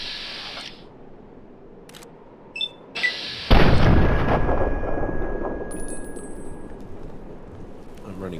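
Gunfire in the video game Fallout 3: a few small clicks and tones, then a heavy blast with a long rumbling decay and some metallic ringing afterward, loud and close.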